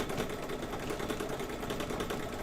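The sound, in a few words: embroidery sewing machine running, not moving properly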